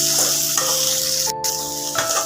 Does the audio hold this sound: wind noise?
no